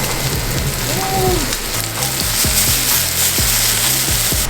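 Longanisa, Filipino hot sausage, frying in a pan gives a loud, dense, continuous sizzle and crackle that fills the whole stretch, with low rhythmic thumps and a faint voice-like tone underneath.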